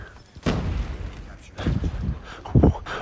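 Shotgun blasts fire in a video game, three heavy booming shots spaced about a second apart over a steady background rumble.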